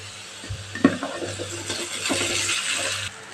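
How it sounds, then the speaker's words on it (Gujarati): Dhokla pieces are tossed gently with fried onions, asafoetida and turmeric in a pan, giving a soft, steady sizzle with a few light utensil clinks against the metal. "હળવા હાથે આપણે ઢોકળાને મિક્સ કરી લઈશું"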